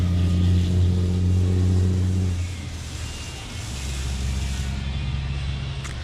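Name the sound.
Corvette or Ferrari sports car driving by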